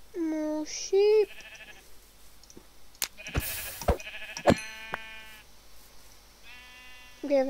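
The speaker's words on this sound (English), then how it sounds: "Yes. More sheep." Sheep in the Minecraft video game give repeated nasal bleats at the start, middle and end, mixed with in-game effects and light talk from a player.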